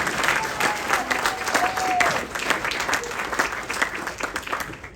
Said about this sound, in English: Round of applause for Jim Sandusky for working hard.